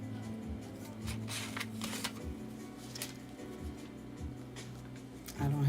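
Pen scratching out a handwritten note at close range, with brief bursts of strokes over a low background hum and a faint rustle near the end.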